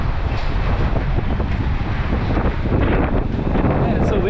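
Strong wind buffets the microphone on a street in Macau, a steady, loud rumbling roar that lasts throughout.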